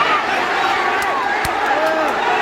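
Large crowd of football fans rushing the pitch in Malang, East Java, as riot police move in: a dense, loud wall of crowd noise with shouts rising throughout, and a single sharp bang near the middle.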